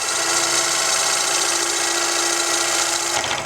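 Bowl gouge cutting wood on a lathe, taking one continuous ribbon in a finishing cut: a steady, loud motorized whir with a dense cutting hiss that holds evenly and then eases off near the end, with no talking.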